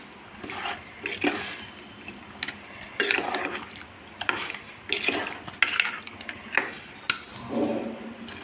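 A spoon stirring mango mutton curry in a pot, with irregular scraping and clinking strokes and soft wet squelches over a low background sizzle, fairly quiet and close.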